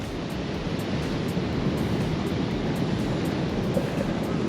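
Ocean waves rolling in at the shore under an angry sky, a continuous broad roar of surf with wind buffeting the microphone, no voices.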